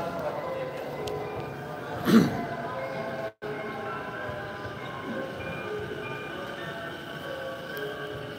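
A train rumbles steadily through a busy station in Japan, with a brief sharp squeal and a low mechanical drone throughout.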